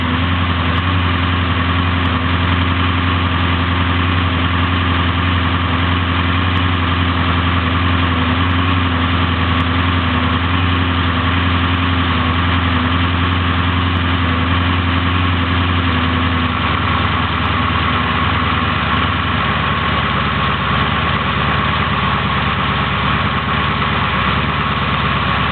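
A 383 cubic-inch small block Chevy V8 idles steadily around 900 RPM, a loud, even low rumble with a dense throb that holds throughout, close by with no voices.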